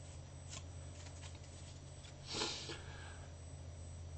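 Pokémon trading cards are flipped through by hand, a quiet, close series of soft riffling and sliding card sounds with one louder flick midway, over a low steady hum.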